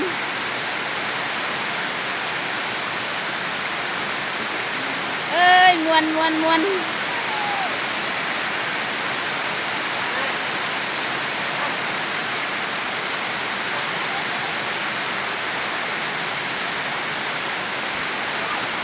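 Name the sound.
heavy rain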